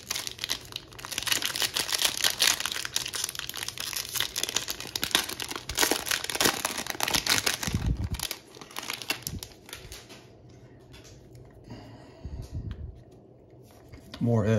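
Paper wrappers from opened baseball card packs crinkling and crumpling in dense, rapid bursts close by, dropping to sparser rustles in the second half, with a person talking over much of it.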